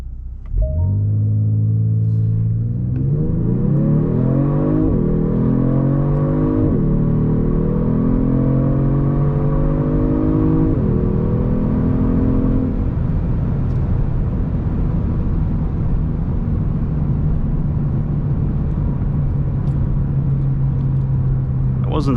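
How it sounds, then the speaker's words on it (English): A 2022 Genesis G70 3.3T AWD engine roars hard from a launch with traction and stability control off, pitch climbing through several quick gear shifts, then settles into a steady loud drone; close and powerful. "Try to launch the vehicle here."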